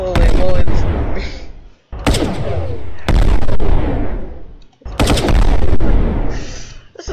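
Guns mounted on a Brick Rigs vehicle fire in several long, loud, thumping bursts separated by brief gaps, heavy and close, with a voice talking underneath.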